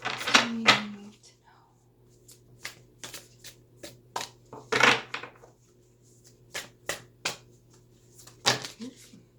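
A deck of tarot cards being shuffled in a series of sharp riffling bursts, some louder and longer than others, with quiet pauses between and a faint steady hum beneath.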